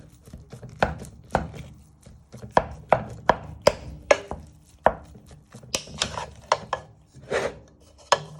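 A wooden spoon chops and scrapes through beef mince in a pan, giving a run of irregular close knocks and rasping scrapes that bunch together in the second half, with no talk.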